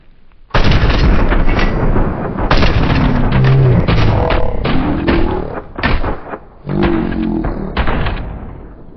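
Loud, continuous gunfire and heavy explosion booms from the shooter video game PUBG, with dense bursts of shots running almost nonstop and a few short gaps.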